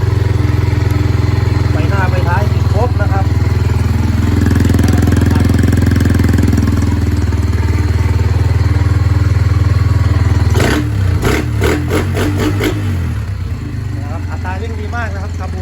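An old Honda Sonic motorcycle with a 59 mm piston and a tuned carburetor idles loudly and close by with a steady, throbbing rumble, then clatters and rattles through a few sharp revs.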